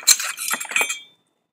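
Bolts, washers and self-tapping screws from solar panel bracket hardware clink and rattle together in a bag for about a second, bright, close metallic jingling that quickly falls silent.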